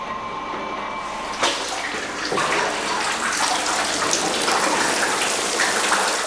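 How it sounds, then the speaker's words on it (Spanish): Hot water pours and splashes steadily over the woven mats of a traditional olive oil press, washing off the remaining oil in a loud continuous rush that grows fuller after the first second. "Para arrastrar todo el aceite que todavía escurre de los capachos, se emplea agua caliente."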